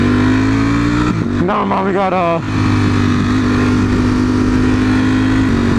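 Ferrari sports car engines in a racing video game drone steadily at a loud, constant pitch throughout, while a voice briefly talks over them.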